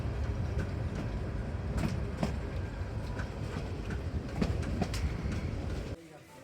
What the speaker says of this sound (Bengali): চট্টগ্রাম থেকে ঢাকাগামী কর্ণফুলী এক্সপ্রেসে সীতাকুণ্ড যাইতেছি